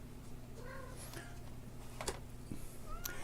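A cat gives a few faint meows and chirps over a low steady hum, quiet and somewhat distant.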